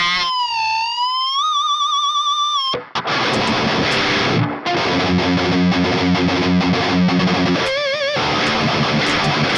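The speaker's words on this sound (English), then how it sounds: "I like to use this as a really dirty pedal. A lot of people like to clean boost. I like dirty boosting." An electric guitar driven through an MXR 10 Band EQ pedal used as a dirty boost opens with a wavering sustained bend, then breaks into loud, distorted, heavily saturated chugging and chords, played alone without speech.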